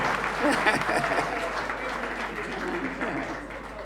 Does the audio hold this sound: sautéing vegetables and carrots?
no